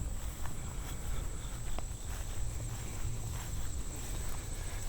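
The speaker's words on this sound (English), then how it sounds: "I hear some crickets. I hear some cicadas." A thin, steady high insect drone from crickets and cicadas at a nature preserve, faint but continuous, mixed with nearby rustling and soft footstep-like crunches on a trail.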